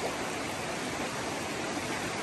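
Trout river or creek at Appenzell Creek in the Poconos, Pennsylvania, with steady broadband rushing water, continuous and moderately soft, no voices.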